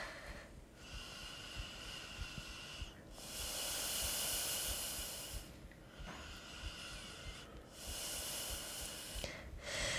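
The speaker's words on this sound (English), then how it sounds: "Long, smooth and even breaths here." Slow, even breaths drawn through the nose during a yoga flow, long smooth airy hisses alternating inhale and exhale at a steady unhurried rhythm, close and alone.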